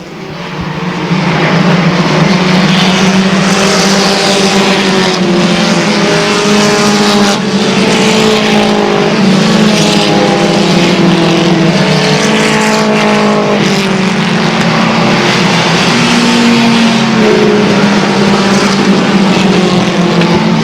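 Race cars roaring around the oval at Airborne Speedway, a loud, continuous engine drone with pitch rising and falling as the pack passes, steady throughout with no voice.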